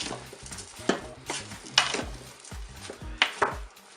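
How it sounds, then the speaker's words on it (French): Tomatoes and rice stirred in a Cookeo multicooker pot, a spoon scraping and clinking against the inner bowl in irregular strokes with a few sharper knocks, close and moderately loud, no talking. "Je vais bien mélanger."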